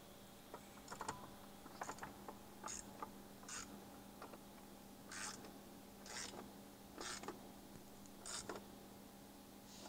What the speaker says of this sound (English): you may have to put a little pressure downward with your socket wrench while you're turning just to cut threads